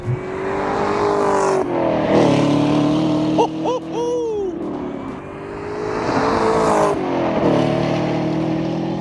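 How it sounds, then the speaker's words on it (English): A classic car's engine revs repeatedly as it slows with automatic rev matching, loud and close, with rising and falling blips and sustained growl over roughly nine seconds, cabin or road noise throughout and no clear talk. "I can hear the auto rev matching"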